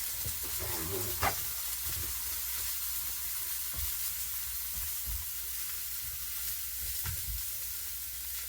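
Swordfish and scallops fry in olive oil in a pan, giving a steady close sizzle with occasional clinks and stirring knocks, no voices.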